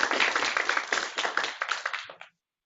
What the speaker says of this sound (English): you guys clapping for a conference phone